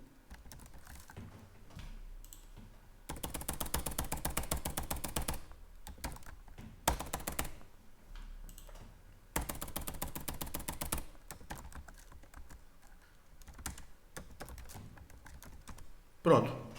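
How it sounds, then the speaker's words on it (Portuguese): A password being typed on a computer keyboard while setting up SSH key access, with steady close keystroke runs in several bursts and quieter pauses between them. "Então, eu vou colocar uma senha aqui."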